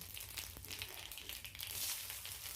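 Cumin seeds sizzle in hot mustard oil in a pan, giving a soft, continuous crackling hiss that is fairly faint and close, with no talking.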